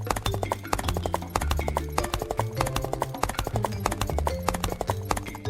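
Cartoon horses gallop off in a fast, steady clip-clop of hooves, a dense rhythmic pounding that fills the scene alongside a music track.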